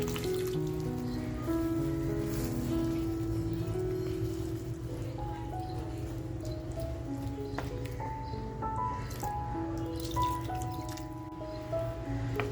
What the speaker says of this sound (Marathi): जितकं पाणी पाहिजे होतं ना तितकंच मी अगदी पाणी टाकून घेतलेलं आहे